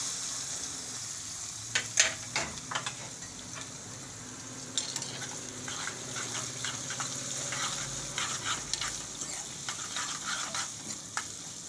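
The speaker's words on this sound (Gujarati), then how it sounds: "સરસથી વઘાર આપણો થઈ ગયો છે" Spices, curry leaves, chilies and sesame seeds crackle and sizzle in hot oil close by as a tempering for patra dhokla, with scattered pops and a few stirring clinks. Fairly quiet, with no talking.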